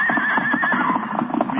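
A horse in a radio drama gives a loud, close whinny that wavers through its pitch, with hoof clops underneath and no speech.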